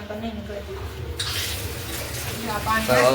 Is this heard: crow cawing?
no